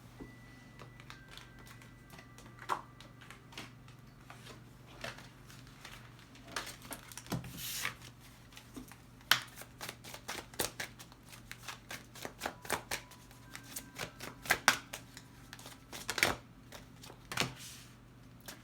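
Tarot cards shuffled and handled over a tarot reading, a steady run of soft riffling and flicking with sharp card slaps scattered throughout, close and fairly quiet over a low steady hum, no talking.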